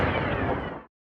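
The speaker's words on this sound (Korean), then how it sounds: "공항 활주로 인근에서 폭발음과 함께 연기가 자욱히 퍼집니다" A loud, broadband blast booms near an airport runway during an airstrike on Sanaa International Airport in Yemen, a dense rumble that lasts about a second before cutting off abruptly.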